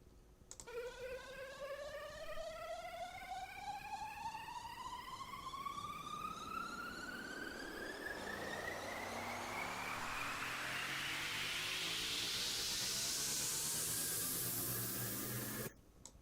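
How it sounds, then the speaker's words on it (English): Big Room House EDM riser sweep, a synthesized effect whose layered tones and noisy wash glide steadily upward in pitch for about fifteen seconds, growing brighter before cutting off abruptly. "Your effects, your risers, your sweeps, and your descenders."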